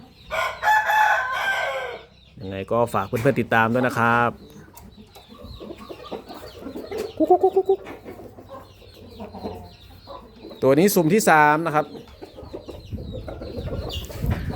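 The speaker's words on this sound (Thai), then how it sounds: "ตัวนี้ก็เป็นไก่หนุ่มนะครับ" Young Burmese rooster crowing several times in long, bright calls, with clucking between them, close and loud, while someone talks over and between the crows.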